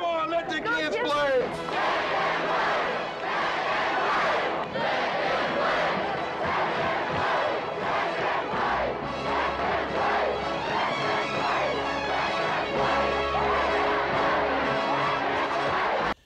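A large baseball stadium crowd chants and roars in unison, a loud, sustained rhythmic call from many voices that carries on without pause.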